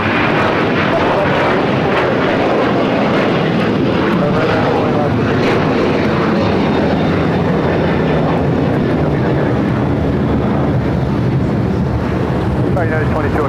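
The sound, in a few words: United Airlines airplane taking off at LAX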